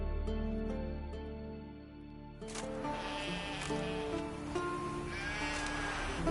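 Sheep bleat in a PS4 game, a few wavering calls close by over a soft ambient music bed, with clicks and rustles between them.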